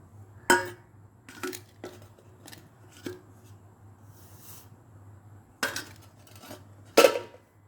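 A lid goes onto a pot of marinating sardine (mathi, kavala) pieces in a home kitchen, with a few sharp metallic clinks and clatters spaced out over several seconds, fairly close.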